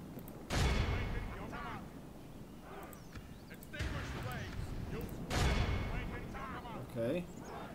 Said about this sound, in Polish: Dwoma armatami zdobędę.